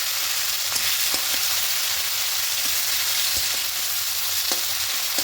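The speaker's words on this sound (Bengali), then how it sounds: "দিয়ে কারিটা একটু ভাজা ভাজা করে নেব" Chopped onion, green chilli and tomato sizzle steadily in hot oil, a loud, dense hiss that runs without a break, with occasional light clicks of stirring and no talking.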